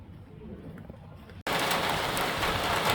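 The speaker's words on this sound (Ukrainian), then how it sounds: "А ось і дощик глинув." Faint dripping gives way abruptly to a loud, steady hiss of rain pouring down, in Lviv.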